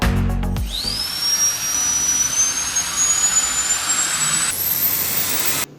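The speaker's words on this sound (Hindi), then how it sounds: "ये है दुनिया का सबसे छोटा 26 mm जेट इंजन" A tiny 26 mm EDF jet engine spools up into a loud, steady high-pitched whine that climbs gradually in pitch, then steps higher near the end before cutting off abruptly, with no talking over it.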